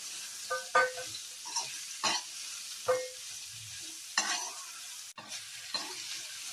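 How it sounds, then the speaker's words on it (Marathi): Ridge gourd pieces are stir-fried in oil for a Khandeshi masala dish, giving a soft continuous sizzle broken by close, sharp spatula scrapes and clacks at an uneven pace, with no voices. "आता आपण भाजी परतवून घेऊया"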